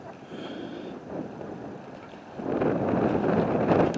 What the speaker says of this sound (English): Oh, that wind is cool.